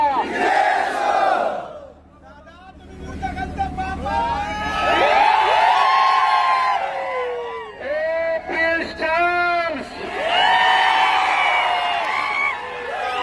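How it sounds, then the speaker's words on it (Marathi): A big crowd at a Pandharpur election victory celebration roars, chants and shouts slogans in loud, surging waves, with many voices overlapping and brief dips between bursts. "पंढरपूरची तुला गर्दी बघायची होती ना"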